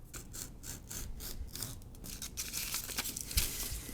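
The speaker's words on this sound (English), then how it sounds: "cut out this from the template." Scissors snip and rasp through a paper template for a Daystar hood cowl scoop, close and fairly loud, a run of repeated cutting strokes and rubbing.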